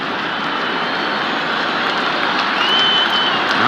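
A packed baseball stadium crowd at a 1991 World Series game roars and applauds continuously, a dense, sustained wall of cheering that swells slightly toward the end.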